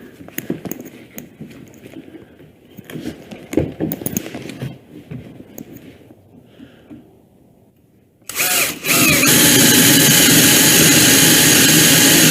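A power drill bores a hole with a hole-cutting bit, starting with quieter handling and scraping sounds, then bursting into a loud, continuous high-pitched whine that holds steady to the end.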